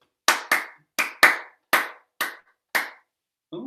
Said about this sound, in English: I think it's an opportunity for a clap.